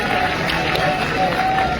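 A large crowd on the Bageshwar Dham Hindu unity padyatra at Orchha Dham claps in dense, continuous applause, steady and fairly loud throughout.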